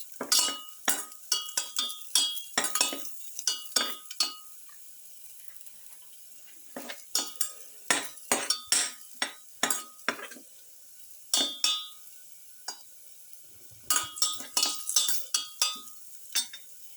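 Lamb and cauliflower rice stirred in a pan, with a utensil scraping and clinking in bursts of quick strokes separated by short pauses, over a faint sizzle.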